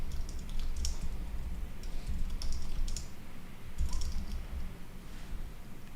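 Fingers type on a computer keyboard in short clustered bursts of light clicking keys, close but quiet, over a steady background hiss with no talking.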